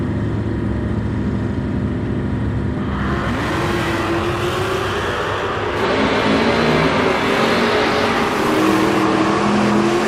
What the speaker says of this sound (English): Logan with a big advantage at the start line, and the win light going to go to the little White Maverick over David Spa